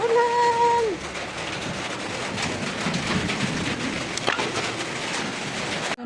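Rain pours in a steady, broad hiss that runs through the clip, with a short tonal sound at the start and a voice heard briefly under the downpour.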